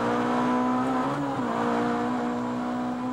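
Touring race cars at a 1989 British Touring Car Championship race, a Ford Sierra Cosworth running between two BMWs, their engines droning loudly and steadily with a held, shifting engine tone throughout.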